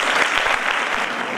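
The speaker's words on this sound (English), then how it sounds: "Can you give a round of applause?" Audience at a community event held at a TVET college against gender-based violence applauding steadily, a dense, even wash of many hands clapping close and moderately loud throughout.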